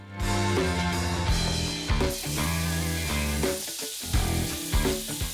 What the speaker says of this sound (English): We add the fish over medium heat.